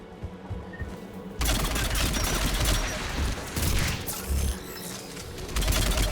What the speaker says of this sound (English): AA guns ahead.